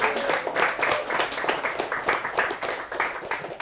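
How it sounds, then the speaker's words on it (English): Applause from a small group at a company team huddle, a few people clapping in a quick irregular patter that stays close and fairly loud throughout, with no talk over it. "So round of applause for the AMs and the directors as well."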